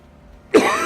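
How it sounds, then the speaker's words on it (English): A single short, sharp cough bursts out close to the mic after near silence, rough and throaty, from a man waiting for qualifying in a Le Mans Ultimate racing simulator session. "This bloody cough is just driving me absolutely insane."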